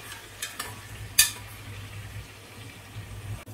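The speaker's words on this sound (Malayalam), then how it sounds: "വേറെ നമുക്ക് ഇതൊന്ന് ഇളക്കി കൊടുക്കാം" Ginger, garlic and green chili frying in a pan make a soft, steady sizzle, with a few light stirring clinks and one sharp metallic tap near the start, close by, with no talking.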